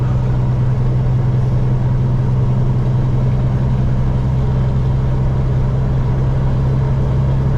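A propane delivery truck's engine drones loud and steady as it pulls up a long highway grade near Vinita and Vian, Oklahoma, a constant low rumble with no break.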